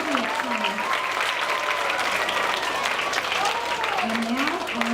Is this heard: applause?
yes